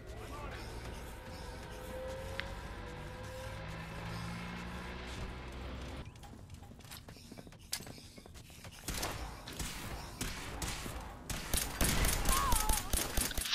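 Bursts of gunfire from the Fallout 4 video game as a robot is shot, rapid cracks growing louder and denser toward the end over a steady background din, with no voices.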